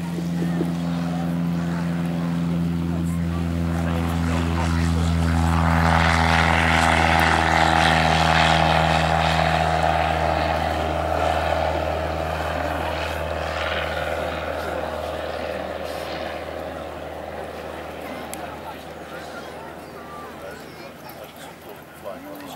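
EoN Primary, a small open-seat training glider-style aircraft, passes by at an Old Warden airshow, its engine drone swelling and fading across the field while a commentator talks over the public address.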